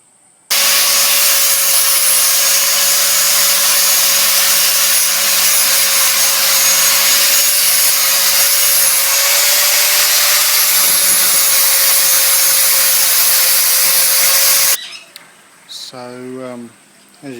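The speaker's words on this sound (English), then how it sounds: "the way I'm going to do that is a sanding attachment for my angle grinder." An angle grinder fitted with a sanding attachment grinds steadily on a part of a Crown No1 cast stove under restoration, a loud continuous rasping whine for about fourteen seconds before stopping, followed by someone talking.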